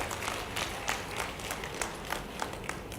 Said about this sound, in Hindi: जोरदार ताली बजा करके मेरी बात का समर्थन व्यक्त करें।